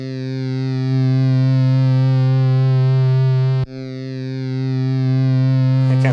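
An overdriven Tascam Portastudio 414 tape unit, run with the master brought down, produces a loud, sustained buzzy distortion with dense harmonics, briefly dipping midway before swelling back.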